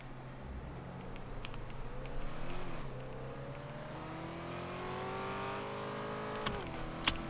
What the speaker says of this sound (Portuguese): Temos aqui a BMW, 0 a 200 em 6 segundos